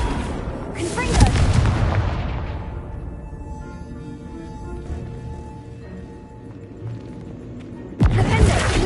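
Confringo blasting spells in a Harry Potter video game: booming, crashing explosions, a loud burst at the start that decays into a rumbling tail, then another sharp blast near the end.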